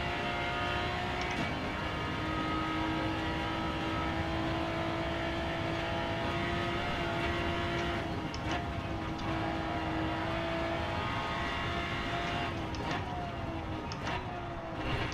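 A race car in Gran Turismo 7 running at high revs, a dense, sustained engine roar with faint tonal whine and small throttle changes, steady and loud throughout with no talking.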